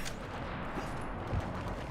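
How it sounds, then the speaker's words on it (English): Muffled gunfire in the video game Mass Effect crackles in the background, with a low thump near the end, all at a fairly even, moderate level. "Shepard, I hear gunfire."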